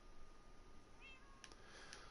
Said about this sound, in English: Let's breed these cats and let me get a kitten.